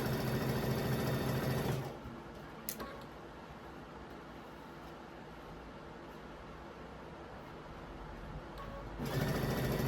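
Domestic sewing machine quilting fabric: a steady, close mechanical whir and rapid ticking of the needle at the start and end, easing to a quieter hum with soft handling noise in between.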